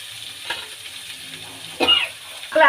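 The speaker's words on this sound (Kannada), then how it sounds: "ಈಗ ಬಾಯ್ಲ್ ಆಗಿರೋಂಥ ಆಲೂಗಡ್ಡೆ ಹಾಕ್ಕೊಳ್ಳೋಣ. ಅಚ್ಚಕಾರ ಪುಡಿ ಹಾಕ್ಕೊಳ್ಳೋಣ." Boiled potatoes with chili powder frying in a pan for aloo jeera palya, a soft steady sizzle with stirring scrapes and a louder burst of hiss near the end, no talking.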